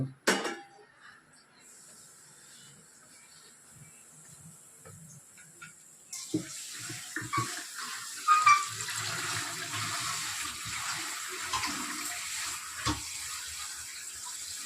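Mint and coriander leaves being washed under a running kitchen tap: a steady hiss of flowing water starts partway through and continues with splashing, while people talk faintly in the background.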